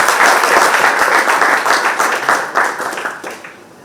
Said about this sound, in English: I think President requires one more round of applause.